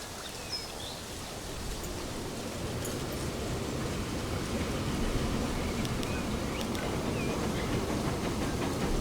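A long 320-metre freight train of fuel wagons rolls along in the video game Transport Fever 2, giving a steady, unbroken rumbling roar that swells slightly and holds on with no talk.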